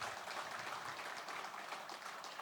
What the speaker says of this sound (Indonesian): Tepuk tangan untuk Jawa Tengah.